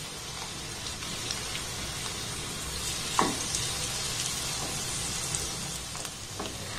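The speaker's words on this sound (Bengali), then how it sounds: "এইরকম একদম কম তেলে ভেজে নেবেন" Quiet, steady sizzle of gram-flour onion fritters frying in a little oil in a large pan, with a faint crackle and an occasional soft clink.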